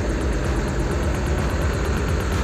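Hino bus chassis engine idling steadily at close range, a deep continuous low rumble with an even pulsing throb and no voices over it.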